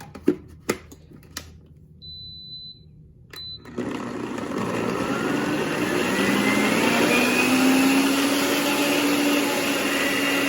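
Small electric grinder whirring as it grinds homemade eyeshadow, preceded by a few clicks and handling taps, then a steady loud motor drone rising slightly in pitch for several seconds.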